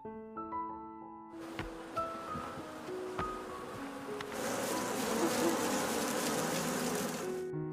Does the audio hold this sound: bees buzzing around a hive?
yes